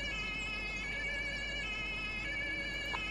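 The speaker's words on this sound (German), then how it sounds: "Da rollt direkt das NEF." Siren of an emergency doctor vehicle (NEF) in a Flensburg emergency-services roleplay video game, a steady multi-tone wail sounding continuously and fairly loud throughout, with no talk over it.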